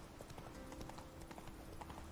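Steady hoofbeats of a horse clip-clop in The Witcher 3, a brisk, even gait repeating throughout at moderate loudness over a dense background, with no voices.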